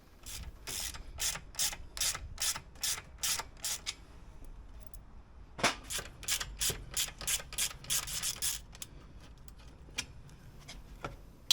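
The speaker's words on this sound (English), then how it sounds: "Remove both lower subframe bolts completely." Subframe bolts on a BMW R1200 GS motorcycle worked loose with a ratchet, making long runs of rapid, even clicking bursts that pause and resume, close and clear with no talk.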